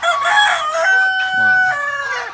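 A rooster crows loudly and at length, close by, among the white laying hens of a chicken flock on a Thai farm, the drawn-out call filling the whole moment.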